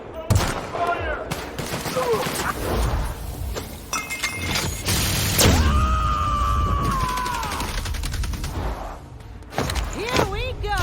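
Gunfire in the video game The Outer Worlds, a dense volley of shots with shattering impacts and tonal sci-fi effects, mixed with shouting voices and game sounds throughout.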